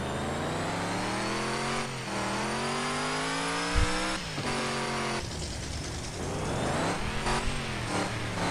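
A truck engine in the off-road game Off-Road Outlaws revs hard at full throttle, rising through several gear-like sweeps with brief drops between them, loud and close with a harsh, buzzing tone.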